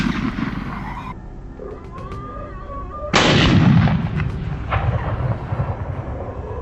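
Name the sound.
gunfire while hunting wild boars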